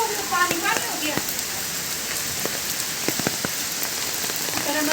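Steady, dense rain falls and patters on a surface, a close broadband hiss with scattered sharper drop taps throughout and no talk.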